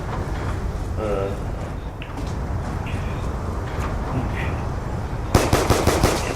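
Video game gunfire comes as a rapid automatic burst of shots near the end. It follows a stretch of game ambience with a person talking over it, and the shots are loud and close.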